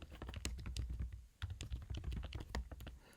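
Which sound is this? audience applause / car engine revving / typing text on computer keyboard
typing text on computer keyboard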